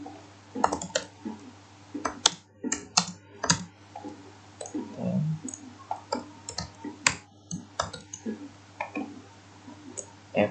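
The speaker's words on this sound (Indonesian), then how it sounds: "Lalu kita ketikkan kode berikut" Code typed on a computer keyboard, a close, irregular run of crisp key clicks in quick bursts with short pauses, over a faint steady hum.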